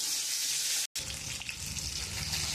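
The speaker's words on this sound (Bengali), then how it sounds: "আমার তেলটা গরম হয়ে গেছে, এবার আমি মাছটা দিয়ে দেবো।" Rita fish, rubbed with salt and turmeric, sizzles in hot oil with a dense, steady frying hiss, briefly cut by a split-second gap before resuming a bit louder with bubbling.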